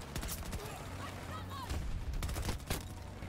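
Bursts of rapid automatic gunfire from the video game Battlefield 2042 crackle through the scene, dense and loud in overlapping volleys, with some faint voice-like sounds under the shooting.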